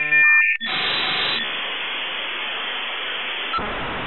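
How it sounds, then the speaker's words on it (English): Dial-up modem transmitting modulated digital data: a brief tone sequence and chirp at the start, then a loud, continuous harsh hiss of data noise with a shift near the end, alone without speech. "This is a sound of digital data that has been modulated by a dial-up modem"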